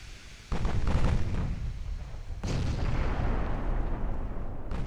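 Eight-inch naval guns firing in Ultimate Admiral: Dreadnoughts, a heavy booming salvo that rolls into a long rumbling roar, then a second thunderous volley, loud and sustained.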